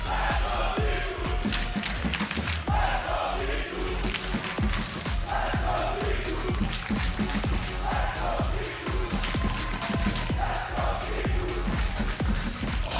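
A large esports arena crowd at a League of Legends LEC match cheers and roars continuously, with rhythmic chanting and clapping swelling through the noisy, dense din.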